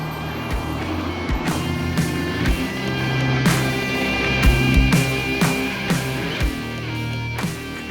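A BMW M car heads out on a countryside test drive, its engine rumbling steadily throughout with low thumps and surges, heard up close with no talk.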